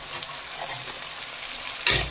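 Shallots, ginger and green chillies sauté in a pan with a soft, steady sizzle, and a brief louder scrape of stirring comes near the end.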